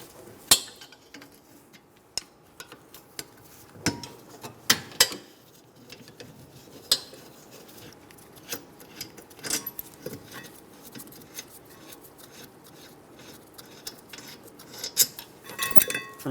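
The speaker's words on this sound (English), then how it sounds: "Using a 17mm, remove the caliper bracket bolts." A 17mm wrench works the rear brake caliper bracket bolts on a 2015-2021 Subaru WRX, giving scattered metallic clinks, ratchet ticks and tool knocks at close range over a quiet background.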